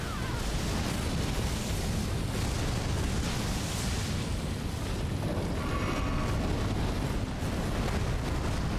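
Elden Ring boss fight with a fire attack, a sustained loud roaring rush of flames and blasts throughout, with dense rumbling bursts and no clear pause.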